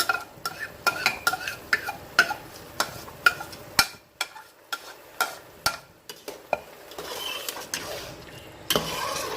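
Rice is stirred into a pot of cooked chicken for yakhni pulao with a spoon, making repeated close scraping knocks against the pot at an uneven rhythm over a faint simmer, with no talking.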